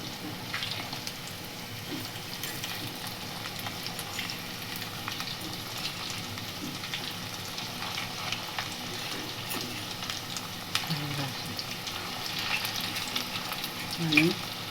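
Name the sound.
sooji potato tikki frying in a pan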